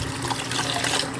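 Water runs steadily into a mixing bowl that held Cheddar Bay biscuit mix, a loud, close, continuous splashing rush with no talking.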